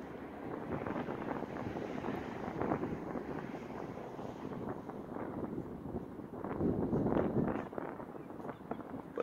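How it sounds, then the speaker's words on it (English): Steady wind buffeting the microphone on a sea fishing pier, a continuous low rumbling roar with gusts that swell in the later seconds, no voices. "If it weren't for this wind, that would be red hot right now."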